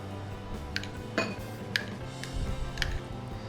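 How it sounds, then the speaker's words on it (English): Spoon scooping momo chutney into a bowl, a few light metallic clinks and taps against the dish, close and quiet with a faint background hum. "So I'm going to add in about 12 to 13 spoons of this,"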